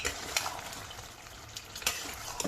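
Yogurt is stirred into mutton curry frying in a pan, giving a quiet, continuous sizzle with a few sharp scrapes of the spoon, close and faint, with no voices.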